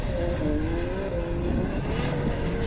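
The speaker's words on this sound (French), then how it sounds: "Allez, ici le dernier virage, on s'applique pour Enzo Suras." A race car takes the last corner at the Val de Vienne circuit, its engine a loud, steady drone with a slowly shifting pitch and a light tyre hiss.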